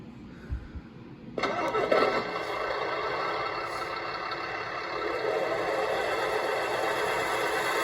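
A 1/14 scale RC Mercedes Zetros 6x6 truck powering up and driving forward, a sudden onset of steady electric motor whine that holds at a constant level and swells slightly toward the end, close and alone without speech.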